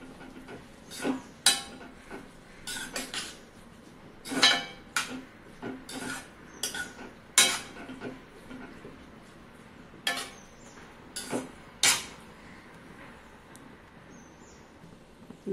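A spoon stirring dudhi halva with cream in a pan, giving a series of short scraping and clinking strokes at an irregular pace, close and moderately loud, with no talking.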